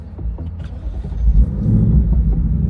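A Ford Mustang GT California Special convertible's engine cranks and catches close by, settling from a short starter whir into a deep, steady idle rumble.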